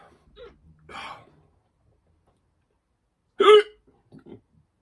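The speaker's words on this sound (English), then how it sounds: "Those people that love to hear me hiccup, you're going to be finding this one hilarious" Hiccups from someone who has just eaten hot, spicy rum gummy bears: a few soft throat sounds, then one loud, sharp hiccup close to the mic, followed by faint catches of breath in an otherwise quiet room.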